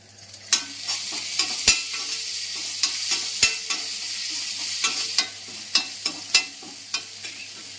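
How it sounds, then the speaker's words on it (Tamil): Sliced onion sizzles and fries in a pan with ginger garlic paste, with steady broadband crackling and repeated sharp spoon-stirring clinks and scrapes spread through the clip; no one speaks. "ஒரு பெரிய வெங்காயம் ஒன்று, அது நல்லா கொஞ்சம் வதங்கட்டும்"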